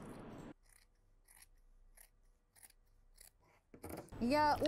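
Scissors snip through warm dress fabric to cut the back piece, giving a series of faint, evenly spaced crisp cuts, with a short stretch of talking at the start and the end.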